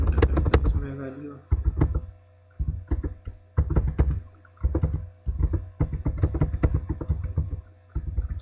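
Fingers type values on a computer keyboard while entering C++ matrix input, bursts of quick, close key clicks separated by short pauses, with someone talking over them at times.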